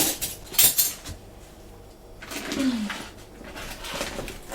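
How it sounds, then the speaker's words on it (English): Tofu being cut up on a board in a home kitchen, giving a few light knife taps and clinks close by, with quiet pauses between strokes and no talking. "So you're going to cut up the tofu?"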